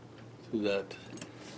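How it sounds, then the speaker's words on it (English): A metal padlock clinks and rattles as it is threaded through the hoop of a strap buckle that holds a customized Remington XP-100 pistol. There are a few short, close jangles with brief pauses between them. "So I put a padlock through that"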